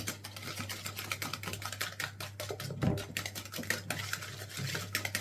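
Yogurt cake batter with hazelnut powder being stirred in a bowl, a quick steady run of light clicking and tapping strokes, close and fairly quiet, with no talk over it.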